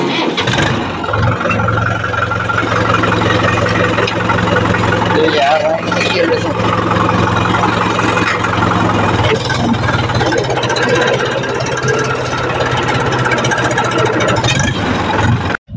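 A loud, steady tractor engine rumble runs throughout with a constant low drone, and people talk over the noise.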